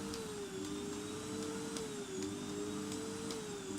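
A household vacuum cleaner hums steadily nearby during home cleaning, a continuous close motor whine with a faint periodic ticking and slight dips in pitch.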